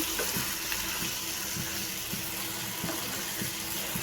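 Jackfruit seeds and potato in a gravy fry in a pan with a steady, even hiss and soft bubbling crackle, continuous and moderately close, with no talk.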